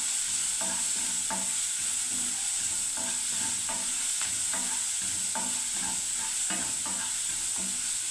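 Spices with turmeric frying in hot oil for a yogurt curry, a steady close sizzle and hiss throughout, with repeated light scrapes and taps of a spatula stirring the pan.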